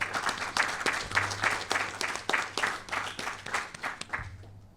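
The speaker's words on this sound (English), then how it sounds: "Let's give them a round of applause." Audience applause at a Senior Non-Commissioned Officer induction ceremony at Lajes Field, steady dense clapping from a crowd throughout, fading slightly toward the end.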